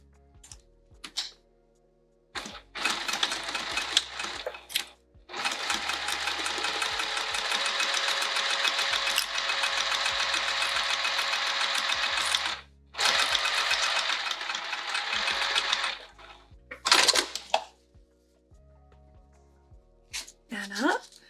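A sewing machine stitches a seam on a fabric baby sling in several bursts, short starts followed by two long runs of steady rapid whirring, with quiet pauses between them.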